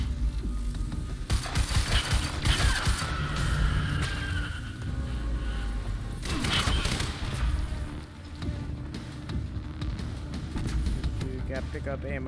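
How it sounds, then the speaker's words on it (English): Automatic weapon fire in the Quantum Break video game, repeated bursts of gunshots mixed with chaotic effects, mostly under someone talking throughout. "if I hold it down, it just acts like a normal gun. Like a normal automatic gun."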